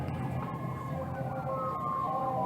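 Emergency vehicle siren heard from inside a car with closed windows on dashcam, a wavering tone sweeping steadily over road rumble and engine noise.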